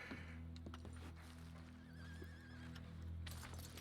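A horse in the Western video game Red Dead Redemption whinnies with a wavering neigh, accompanied by clip-clopping hooves and a low hum, heard faintly at a distance.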